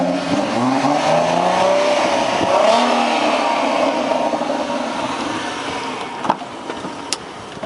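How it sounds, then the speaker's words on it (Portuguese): Ford Mustang engine revving, a loud rising and falling engine note that sweeps up and eases off, then fades into a quieter rumble with a couple of sharp clicks near the end. "Mais uma acelerada pra galera"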